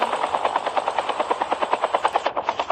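A helicopter in a video game thuds with a fast, steady rotor beat, loud and close throughout, with no talk over it.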